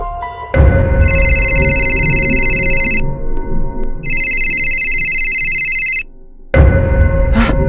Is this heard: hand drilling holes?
no